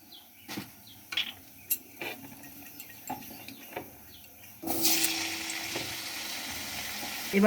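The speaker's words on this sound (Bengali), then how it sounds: "একদিকে আমি আলুগুলো ভেজে নেবো এবার আমি আলুগুলোকে ভেজে নেব" Potatoes go into a pan, a few scattered clinks and taps of utensils first, then a loud, steady frying hiss that swells up and carries on to the end, with no talk.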